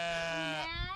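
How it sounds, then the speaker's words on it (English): A single loud, close sheep bleat in a field, a wavering drawn-out call that breaks into a rougher tail near the end. "These are the sheep in the field"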